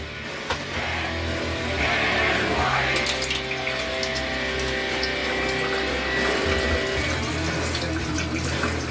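Steady rush of water running from a tap, continuous and fairly loud, with a brief clatter near the start and no talking.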